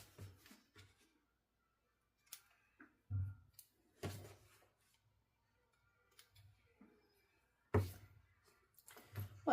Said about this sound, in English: let's cut all our threads here